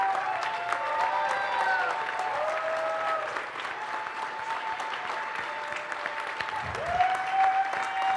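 A crowd at the EVE Vegas 2019 closing ceremony applauds loudly and steadily, dense clapping sustained throughout with occasional cheers or whistles rising above it.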